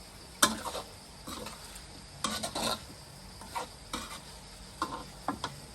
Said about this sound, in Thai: ใส่หน่อไม้ดองแล้วก็ผัดคลุกเคล้าเข้าไปเลยนะครับ